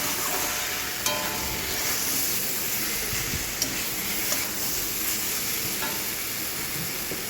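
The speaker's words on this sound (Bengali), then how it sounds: "মশলার সঙ্গে ভালো করে কষিয়ে নেবো" Ridge gourd and potato sauté with spices in a pan, a steady close sizzle under occasional scraping stirs and small clicks, with no one talking.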